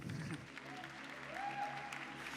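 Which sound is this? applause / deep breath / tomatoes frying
applause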